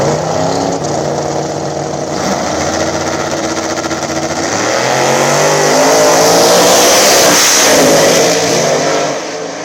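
Small-tire no-prep drag race cars, one a Chevy Nova, roar off together with loud revving engines that climb in pitch and swell louder before fading at the end.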